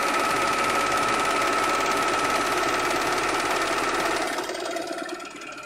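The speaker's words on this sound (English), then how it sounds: "The other thing about serging is you can go so fast you can accidentally put extra fabric underneath" Fast continuous whir and rattle of a serger overlock sewing machine stitching fabric at high speed, close and loud, holding steady before slowing and fading near the end, with no voices.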